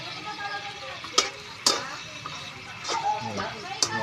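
Food stirred in a pan while cooking, with a few sharp utensil scrapes and clinks standing out over a low sizzle, as voices talk in the background.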